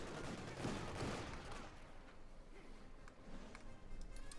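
MG-34 machine gun firing in Company of Heroes 2, a loud dense burst of rapid fire in the first seconds that gives way to quieter distant battle clatter.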